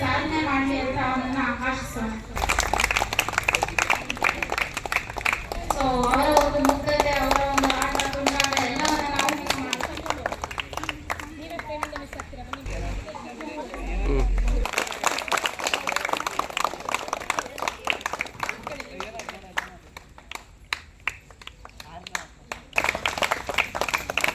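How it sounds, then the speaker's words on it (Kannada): Audience at a school farewell event for seventh-grade students clapping in scattered bursts, with a voice speaking and calling out over a hall's reverberant background. "ಚಪ್ಪಾಳೆ ತಟ್ಟಿ ಇಷ್ಟೇನಾ ಚಪ್ಪಾಳೆ"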